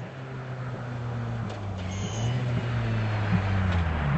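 A Ford Fiesta rally car engine drones steadily at a distance on a rally stage, its pitch shifting slightly as it revs and passes, with no voices.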